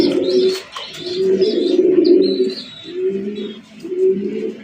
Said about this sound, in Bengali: একদম বিগ সাইজে একজোড়া কালারিং রাসগোল্লা কবুতর